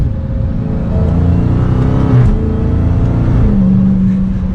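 Supercharged Dodge Challenger SRT Hellcat engine revs and drones steadily from inside the cabin, supercharger whine layered over a loud, continuous growl with a brief pitch dip midway and no talk.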